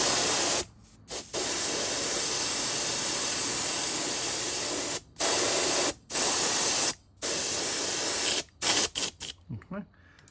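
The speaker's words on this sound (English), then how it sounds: "we got some UVLS in the gun. We're just gonna get a good wet coat on it." A spray gun lays a wet coat of UV paint onto a custom fishing lure in several long hissing bursts separated by short pauses, close and steady, ending in a few quick shorter sprays.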